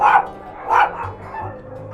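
A puppy at a South Texas dog shelter gives two sharp, close yapping barks, followed by softer whimpering yips.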